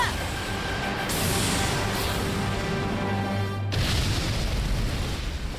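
A cannon blast from the anime Shinkansen Henkei Robo Shinkalion booms, followed by a sustained rushing roar that cuts off abruptly, then continues as a rumbling blast.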